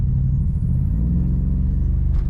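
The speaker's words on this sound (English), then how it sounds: "go ahead and floor it" Deep, loud engine rumble from a BMW X6 M at full throttle, a steady low roar with heavy vibration heard from inside the vehicle, sustained throughout with no speech.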